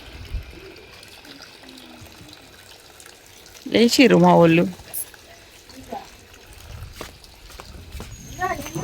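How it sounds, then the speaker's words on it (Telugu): Water runs from a pipe fed by a motor pump drawing from a well, splashing onto the ground around a tulsi plant. The flow is a steady background wash, with a loud voice breaking in near the middle and people talking. "ఆ తులసి మొక్కకు పైపు పెట్టి మరి పైపుతో పడుతుంది నీళ్లు"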